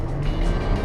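A 2024 Porsche Cayenne E-Hybrid at full throttle gives a steady, loud, dense rush of engine and road noise heard from inside the cabin.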